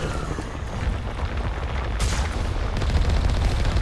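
Dense, rapid gunfire rattles loudly and continuously at a tentacled creature in modded Mass Effect 1 Legendary Edition, intensifying toward the end with no talking.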